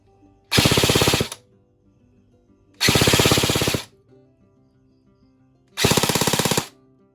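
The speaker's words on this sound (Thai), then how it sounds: "โอเคกระสุนหมดนะครับแบบนี้นะครับคือการยิงทีละชุด" An E&C 308S M4 RIS Gen2 airsoft rifle fires three separate automatic bursts, each a rapid mechanical rattle lasting under a second, with short quiet gaps between them, close and loud.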